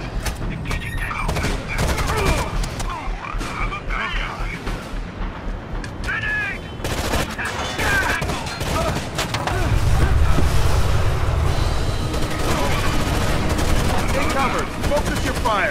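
Rapid bursts of gunfire from a tactical shooter game, Rainbow Six Vegas 2, crackle loudly and continuously alongside mechanical clatter, with squad voices calling out over the firefight.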